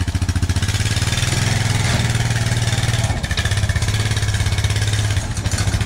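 An ATV engine accelerates from the base of a loading ramp with a loud, close, pulsing mechanical drone. It runs steadily for several seconds, with brief dips in strength partway through and again near the end.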